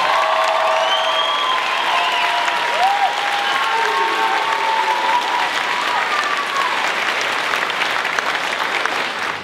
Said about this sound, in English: Please give these candidates a round of applause